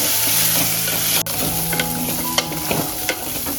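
Sandge, dried lentil dumplings, stir-fried in oil, giving a loud steady sizzle with scraping spatula strokes and scattered clinks against the pan, with no voices.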